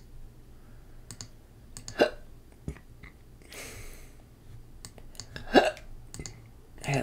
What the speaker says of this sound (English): I got the hiccups.